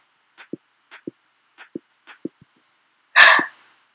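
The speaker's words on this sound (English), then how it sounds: "I sneeze." A single close sneeze bursts out after a series of small soft breathy clicks and catches, loud and brief, with no talking.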